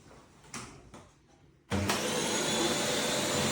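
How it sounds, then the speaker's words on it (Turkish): A Dyson Cinetic Big Ball Absolute 2 corded vacuum cleaner switches on after a few quiet clicks and handling noises, then runs loud and steady with a strong, even suction roar to the end. "çekiş gücüne isterseniz şöyle kısaca bir bakalım tekrar"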